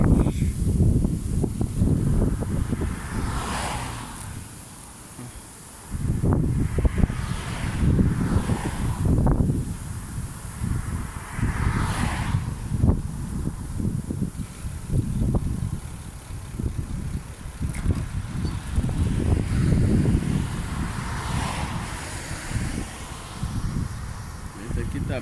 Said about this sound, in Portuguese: Eita, olha o vento.